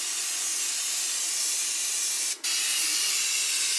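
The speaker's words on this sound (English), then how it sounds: "So now I'm about to spray paint this." A can of spray paint hisses continuously onto a pair of Crocs, a loud, close, steady spray broken by one brief pause before it resumes.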